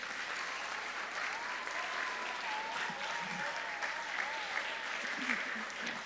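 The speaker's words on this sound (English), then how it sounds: "Can we give them a big round of applause?" Audience applause for a school jazz band and percussionists at a middle school assembly, a steady wash of clapping that holds evenly for several seconds with faint crowd murmur.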